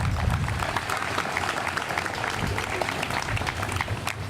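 Audience applause honoring Coach Hurt at a Legends Plaza ceremony for Morgan State University: steady, dense clapping sustained throughout at moderate loudness, with a few faint voices mixed in.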